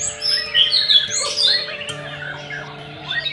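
A white-rumped shama (murai batu) sings nearby in bright, varied chirps, whistles and squawks. The song rises and falls in quick phrases over a faint steady hum, with no one talking.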